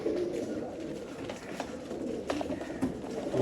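Sialkoti pigeons cooing nearby, several soft throaty coos rising over a low murmur of birds and faint background noise, with a few sharper calls scattered through.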